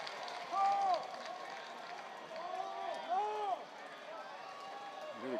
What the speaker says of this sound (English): Hear the crowd yelling, "Let's go, Bub."